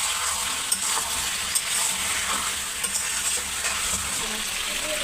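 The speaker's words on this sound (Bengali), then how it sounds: "এইভাবে নেড়ে নিতে হবে, ভালো করে কষিয়ে নিতে হবে" Chicken curry fries in a pan, a steady close sizzle broken by occasional sharp scrapes and taps of a spatula stirring it.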